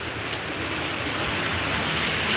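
Steady rain falling, a constant broadband hiss that is moderately loud and close, with no voices.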